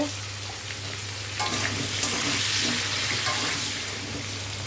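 Potatoes frying in a pan give a steady, dense sizzle that stays close and loud throughout, with a few light clinks and no talking.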